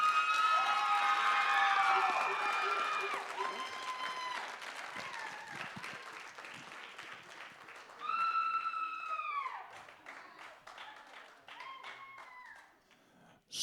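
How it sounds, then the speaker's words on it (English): An audience at a senior signing ceremony breaks into loud applause mixed with high-pitched cheers and whoops. The clapping thins out gradually, then a second burst of shrill cheering rises briefly before the noise fades. "One more round of applause."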